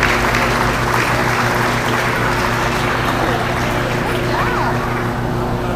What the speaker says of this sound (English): Let's give them another big round of applause as they leave the ring.